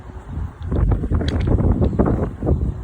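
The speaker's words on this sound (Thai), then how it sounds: "ลมแรงมากครับ" Strong, gusty wind roaring steadily while a 160 cm chula kite is flown, close and loud buffeting across the whole stretch with no talk.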